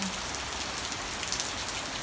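Steady rain falls in a Thai countryside setting, pattering densely on surfaces nearby as a continuous, even hiss with no voices.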